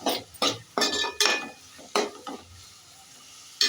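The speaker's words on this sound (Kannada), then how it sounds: "ಮಿಕ್ಸ್ಕೊಳ್ಳೋಣ." A spoon stirs masala pasta in a cooking pan, several scraping clinks and sizzling strokes in an uneven rhythm, close and clear with no talk.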